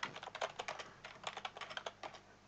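Fingers type steadily on a computer keyboard while entering data in a LibreOffice Calc spreadsheet, with rapid, light, close-up key clicks in an irregular rhythm and no talking.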